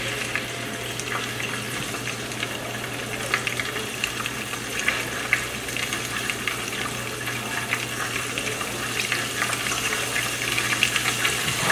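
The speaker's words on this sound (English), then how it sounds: "And then I will stir a little bit." Steady sizzling and stirring of meat pie filling cooking in a pan, a continuous close, bright hiss with soft scraping clicks throughout and no talking.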